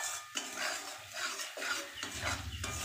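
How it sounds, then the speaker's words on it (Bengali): Whole cumin, a dry red chilli, bay leaf and whole garam masala being stirred and scraped in a hot pan, with repeated metallic spoon strokes and faint sizzling, close and steady, no talk. "আর এই যে মশলা কষাচ্ছি"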